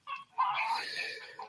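A chicken clucks and squawks as it is chased around a small yard, two quick agitated bursts close by, the second longer and more frantic, with no talking.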